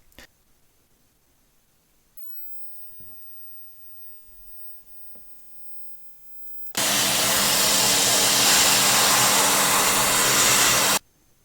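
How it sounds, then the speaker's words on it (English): A vacuum cleaner hoovers up excess 2mm static grass from a small N gauge model railway layout. After several seconds of near silence it switches on as a loud, steady, close whoosh, runs for about four seconds and then cuts off sharply. "hoover the excess"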